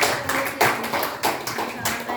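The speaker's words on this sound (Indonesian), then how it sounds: "berikan tepuk tangan" Clapping from a class during an academic supervision lesson, a short burst of many hands with a few distinct louder claps, fairly near, with voices mixed underneath.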